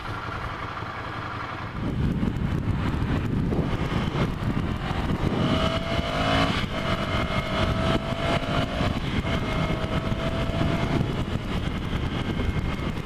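A Ducati Scrambler Cafe Racer motorcycle cruises at highway speed around 80 mph, its engine drone steady and loud under heavy wind rush after a brief quieter start, with no talk.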